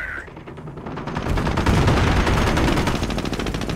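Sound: gunfire in Company of Heroes: Tales of Valor, video game

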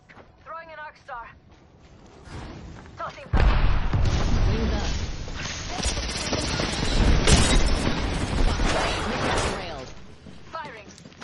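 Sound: arc star grenade thrown in Apex Legends video game

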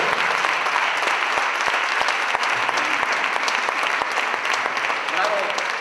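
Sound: audience applause at music school closing

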